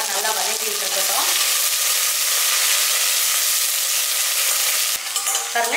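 Onions, curry leaves, mint and a little coriander sauté in a hot pan for a chicken gravy, making a loud, dense, steady sizzle close by that eases slightly near the end.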